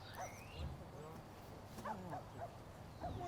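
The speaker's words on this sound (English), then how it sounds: "My dogs are here." Small rescued dogs give faint yips and short high barks amid a steady background murmur, with voices faintly present, in a war-zone rescue setting.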